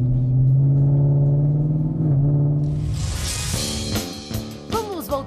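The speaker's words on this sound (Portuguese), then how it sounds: "E o ronco muda, hein?" First-generation Ford Mustang engine roaring up close, a deep steady rumble that shifts pitch, then rising revs with sharp crackling bursts toward the end.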